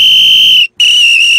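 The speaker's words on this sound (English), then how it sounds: "Yes, that's a whistle." A sharp, piercing whistle like a police officer's, loud and close, blown in two bursts with a short gap between them.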